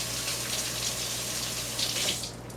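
Kitchen tap water runs steadily into a sink as hands are rinsed, a continuous close splashing stream that eases off slightly at the end.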